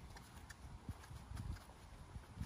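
A horse's hooves step as it moves sideways in a side pass, producing a few soft, irregular thuds and clops at close range against a quiet background.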